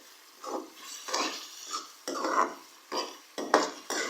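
A spoon scrapes and clinks against a pan while green chillies are stirred into qeema, in repeated close rhythmic strokes with no talking.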